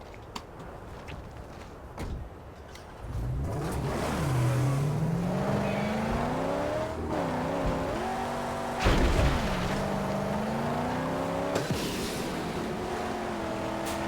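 Car in the Mad Max video game accelerates with a rising, revving engine drone, gear shifts and loud crashes over a continuous rumble, close and steady with no speech.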